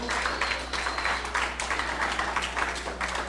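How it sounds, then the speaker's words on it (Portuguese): An audience at a public event at the Biblioteca Nacional Aruba applauds a speaker, giving moderately quiet, continuous clapping over a steady low electrical hum. "Nós está dando forte aplauso."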